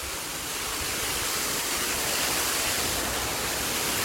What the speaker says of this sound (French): Voilà la cascade.